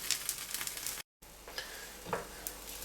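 An omelette meant to come out fluffy fries in a pan, giving a soft, steady sizzle with faint crackles that drops out for a moment, then returns with a few brief scrapes or stirs.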